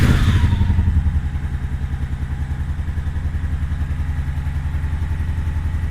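A Honda Shadow Sabre 1100 motorcycle fires up with the choke on, a quick starter burst settling into a loud, close, evenly pulsing V-twin idle with a slightly clattery rhythm.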